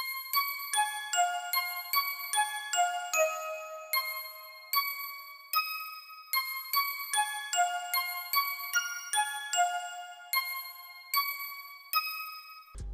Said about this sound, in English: I just laid out a little bell pattern that was in the scale